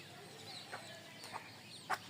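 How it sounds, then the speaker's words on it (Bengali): A desi hen gives a few soft, scattered clucks, close by but faint, against a steady background hiss with no talk. "এইলো আমার একটা মুরগি"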